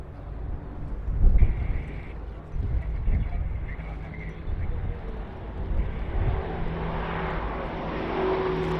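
Airbus A400M Atlas transport aircraft flying a display at the RIAT 2017 airshow, a distant, rumbling engine drone that swells slowly while a commentator talks over it.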